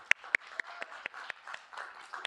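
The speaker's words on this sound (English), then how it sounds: "So first, like a round of applause to like those two individuals." A small, scattered round of applause at a student senate meeting, a few people clapping unevenly in an indoor room for about two seconds.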